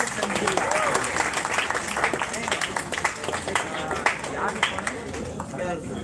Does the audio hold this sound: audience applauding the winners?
yes